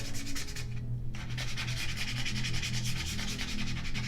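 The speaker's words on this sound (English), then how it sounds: "And you're going to like scrape this a handful of times." A scraper rasps repeatedly over vinyl on a wooden sign board, a steady close scratching rhythm of back-and-forth strokes with one brief pause near the start.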